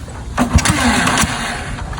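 A motorcycle engine is started with a few sputtering coughs and thuds before catching into an uneven mid-pitched idle, loud and close.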